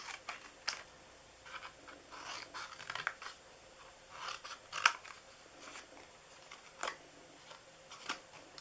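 Scissors snip through the paper flaps of a gingerbread house treat box in a quiet series of short, crisp cuts and rustles. The sound is close and faint, with irregular spacing and no talk.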